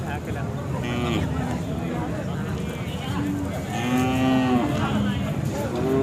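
Several loud, drawn-out moos from Khillar cattle close by at a livestock market in Sangola, repeating every second or so over steady background murmur and voices.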